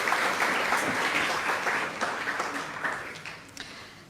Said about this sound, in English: can you please give Mr. Mac Karim a warm round of applause for his contributions?